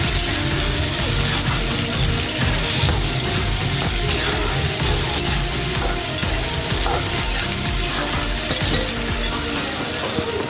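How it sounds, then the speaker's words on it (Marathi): Roughly chopped onion and tomato sizzle steadily in a pan for a chicken masala gravy, with a continuous crackling fry and the scrape of stirring throughout. "थोडासा आबडधोबड कांदा मी लालसर करून घेतला आणि टोमॅटो टाकला"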